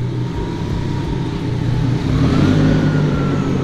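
A four-door Toyota Supra drives out and away from a lift in a garage, its engine humming steadily and close, with a brief rise in revs partway through.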